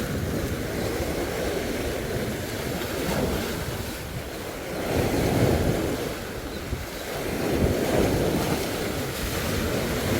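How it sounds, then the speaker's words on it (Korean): Sea waves surge and crash against the shore at a fishing spot in Buan, a loud continuous roar that swells and recedes in broad surges, with heavy wind buffeting throughout and no voices. "파도가 이렇게 치는데"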